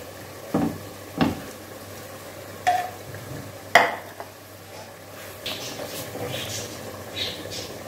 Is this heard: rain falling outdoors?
no